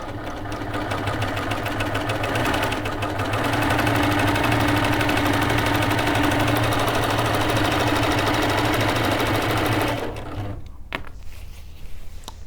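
A Primo cover stitch sewing machine runs at a steady, loud, fast rhythmic hum for about ten seconds, then stops, leaving faint clicks and handling noise.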